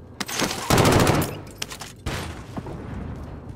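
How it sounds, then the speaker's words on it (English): Bursts of rapid gunfire from a decoy grenade in Call of Duty: Warzone, a loud dense rattle near the start and scattered shots after, with no talk over it. "That's a decoy shooting."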